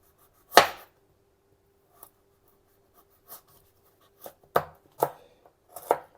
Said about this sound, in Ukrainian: моркву буду такими тоненькими смужками зараз нарізати